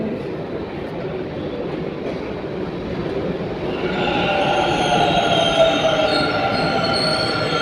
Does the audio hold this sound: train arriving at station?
yes